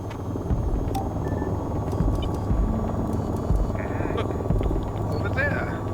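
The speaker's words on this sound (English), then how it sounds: "Now, get those helos before they can make an escape." Military helicopters fly in the VR combat flight game VTOL VR, a steady loud rotor rumble and hum filling the background while people talk over it throughout.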